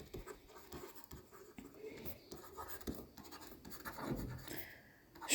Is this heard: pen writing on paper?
yes